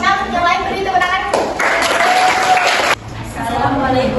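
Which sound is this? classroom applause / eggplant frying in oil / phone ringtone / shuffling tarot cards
classroom applause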